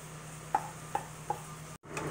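Three sharp knife cuts through bread on a board, spaced about half a second apart while slicing it into bite-sized cubes for croutons, fairly faint over a quiet room with a steady low hum.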